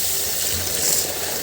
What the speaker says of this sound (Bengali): আমি চালগুলো একটু ধুয়ে নিব সুন্দর করে।